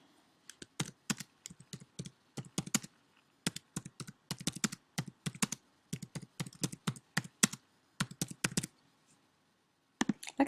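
Fingers type a short comment on a computer keyboard, a brisk run of close, crisp key clicks in uneven bursts with brief pauses, no talking.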